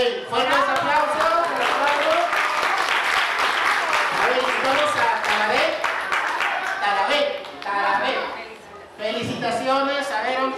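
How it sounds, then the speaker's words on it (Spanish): Audience at a robotics championship clapping loudly and continuously, with voices and cheers mixed through the applause and a brief dip before it swells again. "Ok, fuertes aplausos."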